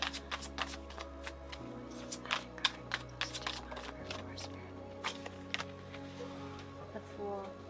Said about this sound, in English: I'm going to shuffle a little bit better.